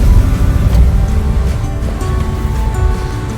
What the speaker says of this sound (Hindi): यहाँ पर देखिए कि हाईवे के ऊपर ये झरना अपनी पूरी ताकत से बह रहा है